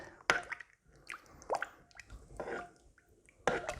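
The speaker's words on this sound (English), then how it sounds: "I'm going to stir it basically till it's a nice consistency" A thick chilli sauce being stirred, giving wet squelching plops and sticky squishes in a slow irregular rhythm, close and fairly quiet.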